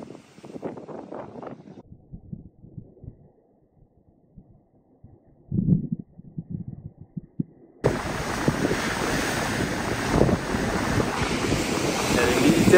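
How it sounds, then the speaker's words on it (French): Rough sea surging at high tide onto a beach in Prachuap Khiri Khan, southern Thailand: a loud, steady roar of broken surf with heavy wind buffeting the microphone, after quieter shuffling and brief wave wash earlier on. "apparemment aujourd'hui la marée est un peu haute et la mer est un peu agitée"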